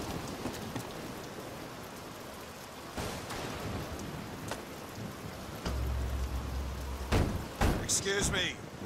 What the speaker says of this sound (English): Probably the rain.